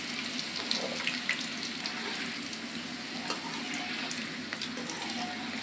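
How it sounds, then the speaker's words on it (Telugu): Green chillies frying in oil in a kadai give a steady, close sizzle and crackle with faint stirring, continuous and unbroken, with no voices. "పచ్చిమిరపకాయలు కొంచెం వాటిలో పచ్చివాసన పోయేంత వరకు ఫ్రై చేసుకొని"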